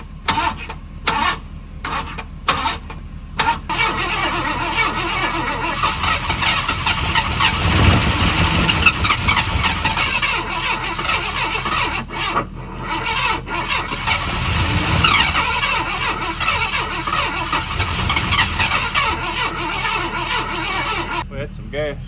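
A seized Ford F150 engine that has sat unused for 20 years cranks steadily and catches briefly, rumbling loud and close with a squealing tone throughout, while people talk over it.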